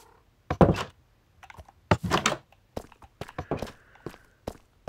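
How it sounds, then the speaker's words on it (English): Wooden door being opened in the Minecraft video game, heard as a series of hollow thunks and knocks mixed with blocky footsteps, close and fairly loud with short gaps between hits. "Open door."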